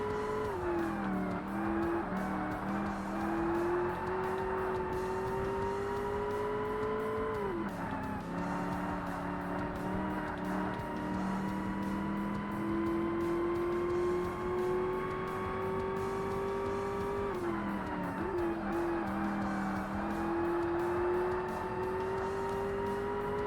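A race car in the Forza Motorsport video game, a Porsche, runs a Professional High-Power event. Its engine drones continuously and loudly, rising through the revs and dipping at several gear changes and braking points.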